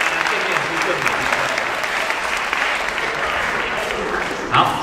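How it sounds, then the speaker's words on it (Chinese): Dense, even applause from a concert audience at a string ensemble performance greets a conductor, with a brief voice breaking in right at the end. "请大家再继续热烈的掌声"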